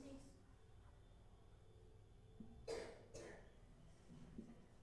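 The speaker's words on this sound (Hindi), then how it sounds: "बहुत खांसती हो।" Two quick coughs, close together and fairly close, break through a quiet room during a live online class. The rest is soft background.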